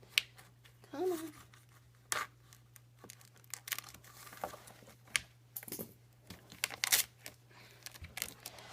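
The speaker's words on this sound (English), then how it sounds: "These scissors don't like to cut sometimes" Scissors snipping through plastic sheet for a cat shelter in a series of irregular crunchy cuts and scrapes, with pauses and handling noises between bursts.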